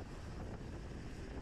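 Steady wind buffets the microphone in a headwind section of a women's bike race, a continuous low rumbling roar with no other sounds standing out.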